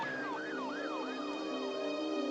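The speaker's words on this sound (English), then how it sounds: "when an ambulance does arrive, it takes the shortest possible route" An ambulance siren wails in a rising and falling yelp, several sweeping cycles loud and fairly near over a steady background hum, with no speech.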